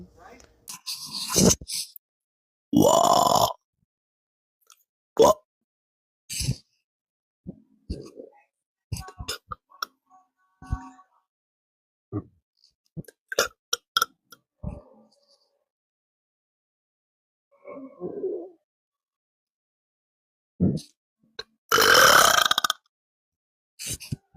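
A woman who has eaten pizza and drunk beer lets out a string of loud, close burps, some long and rumbling, some short, spaced irregularly with silent gaps and a few crunchy, breathy sounds between them.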